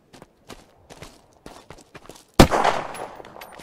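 Gunfire in the zombie survival game Unturned: a series of light, evenly spaced taps, then one loud close shot with a rough, decaying tail.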